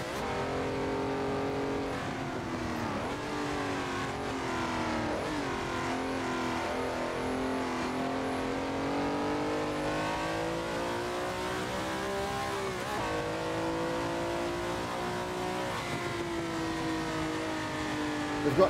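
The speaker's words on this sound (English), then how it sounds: "We've got Michael Schumacher's old Ferrari from 2004" A 2004 Ferrari Formula One car in the Assetto Corsa racing game screams at high revs, its engine note rising and falling steadily through gear changes over a long continuous run with no talking.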